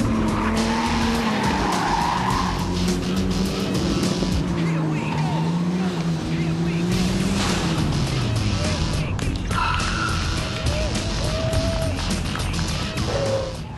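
A Toyota Land Cruiser rally car is driven flat out on a rally stage, its engine roaring through rising and falling revs while the tyres skid and slide, loud and close, with a commentator speaking over it.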